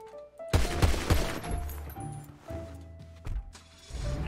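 A burst of gunfire in the game GTA RP: several sharp shots in quick succession near the start, then rumbling game sounds and softer clatter for the rest.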